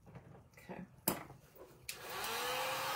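A heat gun or hair dryer drying Wood U Bend moulding applied to a thrift store find switches on partway through and runs as a steady, close whooshing blow after a few quiet handling noises.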